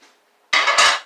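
Metal pan clattering and scraping on a stovetop while coconut oil is added for banana pancakes, a faint tap followed by two close, loud clanks in quick succession.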